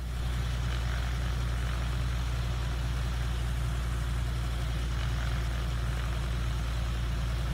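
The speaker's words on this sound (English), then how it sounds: "Lean until you can hear the engine get rough." Light aircraft piston engine idling at about 1000 RPM and leaned until it runs rough, a steady loud low drone with throbbing pulses filling the whole stretch without a break.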